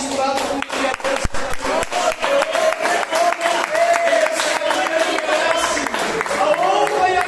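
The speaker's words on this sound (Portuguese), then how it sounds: "dá uma salva de palmas misturada com o que é Deus" A church congregation claps together in steady applause, a dense run of hand claps beneath a spoken voice and organ-like tones throughout.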